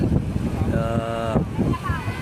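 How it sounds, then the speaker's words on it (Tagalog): Strong wind buffets the microphone outdoors near water, a rough continuous roar under a voice speaking. "Malakas-lakas pa rin ang hangin mga Papsi Lods."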